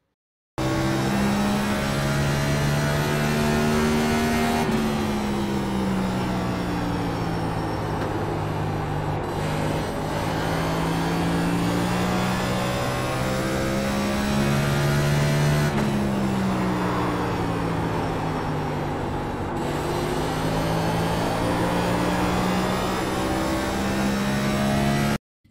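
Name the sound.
race car engine during a lap, iRacing video game at Richmond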